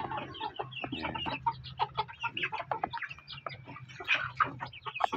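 Two-month-old chickens clucking close by, a busy stream of short overlapping clucks and chirps with a low steady hum underneath and no talking.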